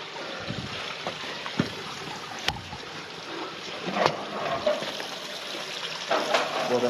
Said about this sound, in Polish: Słychać płynącą wodę.